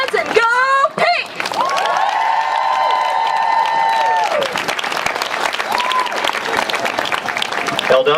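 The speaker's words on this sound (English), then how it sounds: "Another nice round of applause for our keynote speaker." An audience applauds a keynote speaker at a Soroptimist event against domestic violence. The clapping runs steadily throughout at moderate loudness, while a voice speaks over it with a sustained tonal sound in the middle.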